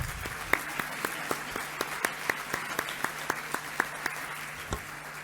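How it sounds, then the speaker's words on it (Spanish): Audience applause at a transparency seminar panel, heard as sparse, separate hand claps over a steady low hum, fairly faint and without voices. "También un aplauso para ella."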